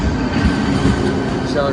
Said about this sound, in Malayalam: നമ്മളെ ട്രെയിൻ വന്നിട്ടുണ്ട്